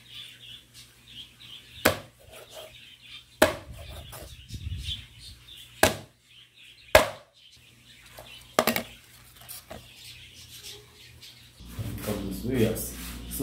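Sharp knife chopping rabbit meat for jerk rabbit on a board, a handful of separate hard chops spaced a second or two apart, with quiet kitchen rustling and faint birdsong between them.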